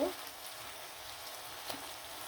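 Hilsa fish pieces going into a hot pan of tomatoes and eggplant, giving a steady, fairly quiet sizzle with a soft crackling hiss throughout and a small pop near the end.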